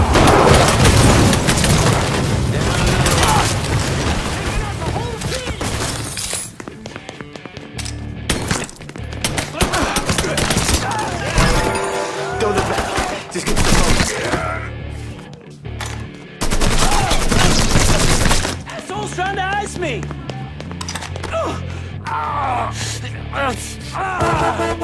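Heavy gunfire rips through a shootout in the video game Mafia III, with dense automatic bursts, loud booms and brief lulls, and shouting voices mixed in over the sustained chaos.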